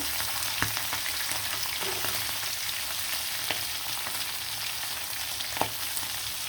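Pieces of hilsa fish sizzle in oil with red chili, a constant bright frying hiss. A few sharp taps and scrapes from stirring break through it, and no one speaks.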